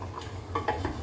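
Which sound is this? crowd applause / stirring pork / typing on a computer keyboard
stirring pork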